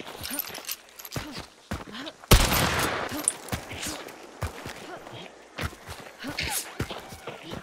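Bursts of enemy gunfire in a first-person shooter video game, with sharp cracks and one loud blast among footsteps and scattered impacts while players talk over the action.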